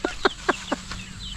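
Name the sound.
chickens clucking while eating feed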